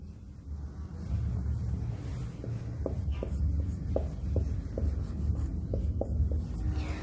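Marker or chalk writing conclusions on a board during a reasoning lesson, short regular strokes and taps repeating over a low room hum.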